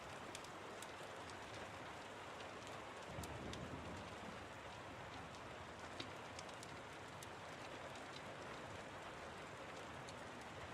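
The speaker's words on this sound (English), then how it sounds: "Is that rain in the background?" Steady rain ambience plays faintly in the background as a soft, even hiss of falling drops with occasional sharper patters, no voices over it.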